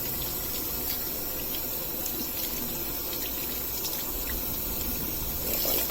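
Freshly dyed wool rinsed under a steady stream of running water, a constant close splashing hiss that never lets up and has no talk over it.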